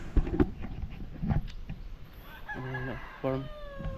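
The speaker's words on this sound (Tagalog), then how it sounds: "Ganda ng mga manok pasabong." Two fighting cocks crow in quick succession, loud and fairly near, after a stretch of clucking and scattered farmyard noise.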